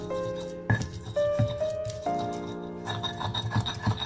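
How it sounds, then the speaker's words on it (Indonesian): Garlic cloves being crushed and ground in a stone ulekan mortar, a close scraping rub in short strokes, with ringing tones sounding in the background. "lanjut kita ulek si bawang putih"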